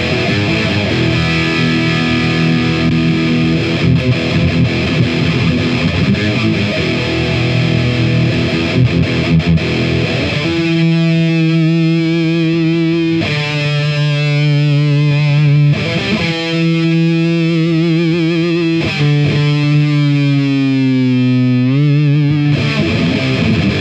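Ibanez AZES40 electric guitar through humbucker pickups with heavy distortion, loud and sustained: a dense, saturated wash gives way after about ten seconds to clearer ringing chords and bends, with no one talking.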